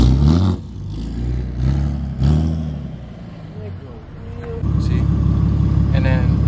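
Car engine with exhaust revving in short bursts, a low throaty rumble that settles into a steady idle drone, close by with people talking over it.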